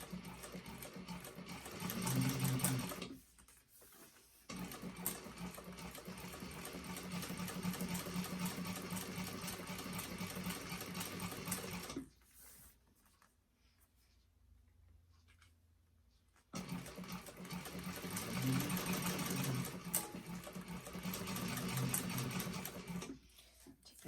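A sewing machine fitted with a walking foot stitches through a bag, running in long steady bursts of rapid mechanical hum and clatter, stopping briefly twice before starting again, close and alone.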